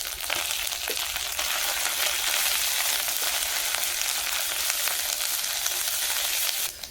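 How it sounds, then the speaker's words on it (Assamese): Garlic sizzles in hot oil with onion and ginger already browned in the pan, a steady loud crackling frying sound throughout, no talking. "এতিয়া দিছোঁ নহৰুখিনি"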